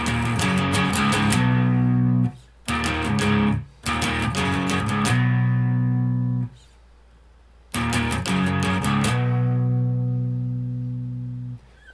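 Electric guitar with effects plays a closing section, heard as three bursts of rhythmic picking, each finishing on a long sustained chord that rings out and fades.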